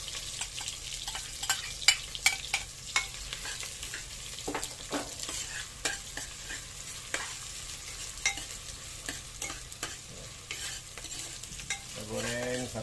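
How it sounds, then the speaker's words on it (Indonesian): Garlic and ginger frying in a pan, a soft, steady sizzle and crackle with light scraping stirs, fairly faint and alone, with a brief clatter at the end. "Kita goreng sampai bawang dia bau wangi."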